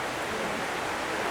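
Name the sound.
rain falling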